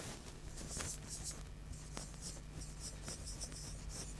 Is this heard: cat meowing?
no